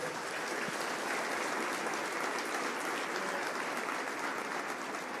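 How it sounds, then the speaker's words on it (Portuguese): A church congregation applauding during a service, steady, sustained clapping from a crowd heard at a moderate distance with no talking. "Você pode dar uma salva de palmas ao Senhor Jesus?"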